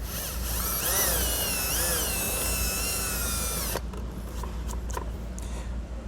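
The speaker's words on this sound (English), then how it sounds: "I'll go back with my drill bit and just kind of work it around just a little bit" A power drill bit whines steadily as it is worked around to enlarge a hole while a brake controller is fitted to a 2016 Jeep, then cuts off, leaving faint ticks and handling noises.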